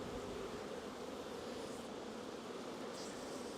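Carpathian honeybees droning around an opened beehive on a summer evening, a steady, faint, continuous buzz with no talk over it.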